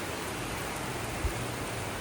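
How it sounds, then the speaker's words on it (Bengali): Heavy rain pours down as a steady, dense hiss filling the space, with one brief louder knock partway through and no voices. "ঝমঝম করে বৃষ্টি হচ্ছে।"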